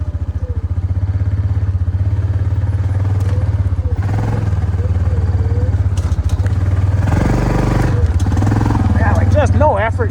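A quad ATV engine crawls over a trail at low throttle, its steady low rumble loud and close throughout with clattering and brief revs, while people talk over it.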